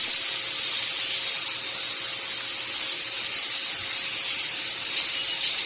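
A steak searing in a pan, already flipped and forming a crust, gives a steady, loud, unbroken hiss and sizzle that holds evenly throughout with no talk over it.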